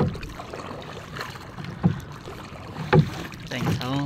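A small outrigger banca out at sea near an island, its hull knocking and sloshing through water with gusts of wind buffeting the microphone and a few sharper splashes.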